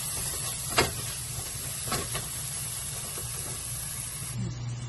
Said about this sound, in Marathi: टमाटर टाकलं मस्त. आता याला भाजून घेऊ.